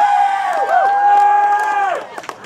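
A cheering section lets out a loud, sustained whooping cheer for a graduate at an 8th grade graduation ceremony in Long Beach, California, the drawn-out voiced call holding for about two seconds before breaking off into scattered crowd noise.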